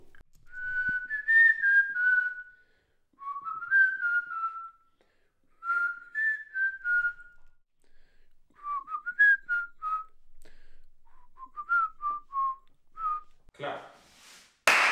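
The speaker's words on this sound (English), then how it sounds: "Whistle." A person whistles a wavering melody in an untreated room, in several short phrases with pauses between them, close and clear, ending with a brief noisy burst.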